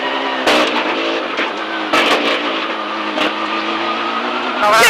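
A Mitsubishi Lancer Evo X rally car roars along a gravel rally stage at Rajd Wisły 2013, its engine loud and close from inside the cabin, revving high with sharp gear-change drops and brief bursts of tire noise.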